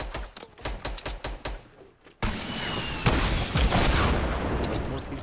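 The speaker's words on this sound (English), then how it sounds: "Bro, who else is shooting?" Gunfire in Fortnite Battle Royale, a rapid burst of loud repeated shots followed by a sustained roaring blast and continuing noisy action, close and intense, with no talk.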